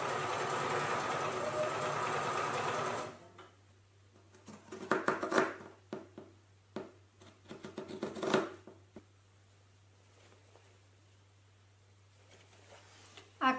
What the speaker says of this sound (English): take it to the sewing machine and sew